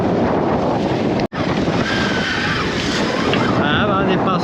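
Sea waves and wind rush around a sailboat as the sea builds from flat calm to about a metre, with steady loud wind buffeting the microphone and one brief dropout.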